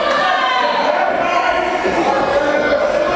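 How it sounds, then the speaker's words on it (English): A wrestling arena crowd cheers in a dense, constant roar that fills the space loudly and evenly throughout, with no clear breaks. "Listen to the crowd"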